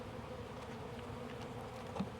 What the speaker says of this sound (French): Il y a quelques abeilles